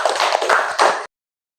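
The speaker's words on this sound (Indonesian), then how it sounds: "Tepuk tangan untuk kalian semua." A class of students clapping together in applause, a dense burst of hand claps lasting about a second that stops abruptly.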